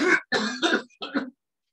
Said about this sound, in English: Again, breathe in and cough again.